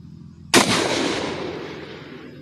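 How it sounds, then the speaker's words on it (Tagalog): A Korean-made P2 rifle fires a single bullet into a pane of television glass from about 20 meters: one sharp, loud crack after a quiet start, followed by a long, fading rumble and echo. "we're using the television glass and using the rifle P2 made in Korea and have a velocity of 920 meters per second"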